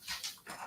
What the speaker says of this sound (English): Glenda, he'll come back. That's the dog